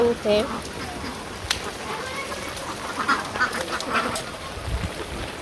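Ducks quack in short bursts near the start, then continue more faintly amid outdoor noise, with voices talking in the background.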